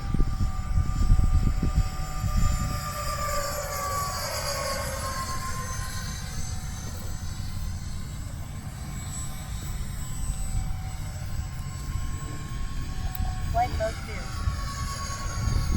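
An E-flite F-14 40mm electric ducted-fan RC model jet flies overhead with wings fully swept, its steady whine rising and falling as it passes, while people talk over it.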